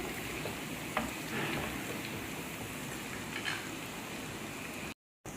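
A tadka of kasuri methi and red chili with ginger sizzles in hot oil for a dhaba-style dal, a steady close crackling hiss with a few small pops, followed by a brief dropout near the end.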